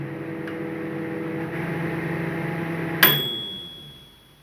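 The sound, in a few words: microwave timer bell ding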